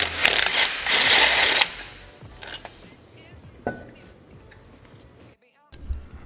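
Metallic ratcheting and clanking as a wrench works the last bolt off a Datsun 510 flywheel during a clutch install, a loud burst at first, then lighter clicks and taps, close up.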